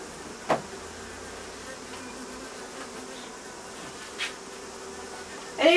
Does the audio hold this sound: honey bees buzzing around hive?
yes